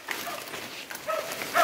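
A hunting dog tracking a scent trail for wild boar or deer gives brief, high whimpers and yips in short bursts outdoors.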